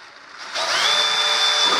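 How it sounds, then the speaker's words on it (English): A power drill bores a hole for a bushing in a horizontal stabilizer rib of a Bearhawk experimental airplane, a loud, close, steady whine that starts abruptly after a brief lower hum. "I will cut the hole for the bushing"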